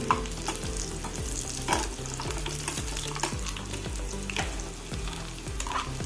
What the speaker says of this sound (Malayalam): ഒരു ടേബിൾ സ്പൂൺ വെളിച്ചെണ്ണ വെച്ചിട്ടുണ്ട് അര ടീസ്പൂൺ കടുക് ഇട്ട് അഞ്ചാറ് ചെറിയ ഉള്ളി അരിഞ്ഞത് ഇട്ട്